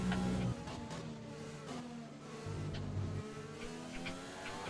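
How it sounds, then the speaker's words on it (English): Simulated Formula 1 car engine in a racing video game, switched to maximum engine mode during Bahrain qualifying: a steady, loud high-pitched whine with gear-shift pitch steps, continuous throughout with no talk. "I think about now I'm going to kick the engine mode into maximum."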